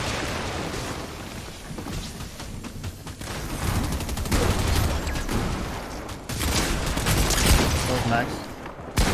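Rapid bursts of gunfire crackle in Fortnite during a duo cash cup finals match, with dense overlapping shots and louder volleys toward the end.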